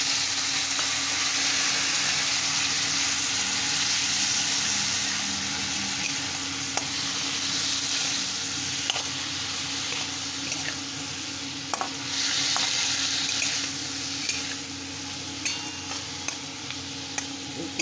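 Tomatoes sizzle and fry in a pan for a stuffed brinjal curry with prawns, with a steady, loud hiss throughout and occasional stirring ticks and scrapes close by; no one speaks.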